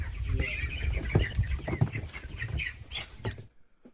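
Chickens raised for meat on a homestead, one with black feathers since it was a chick, clucking and calling in a steady close run of short squawks and clucks over a busy farmyard background, fading out at the end.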